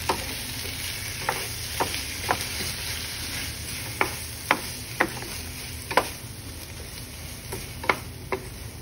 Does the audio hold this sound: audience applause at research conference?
no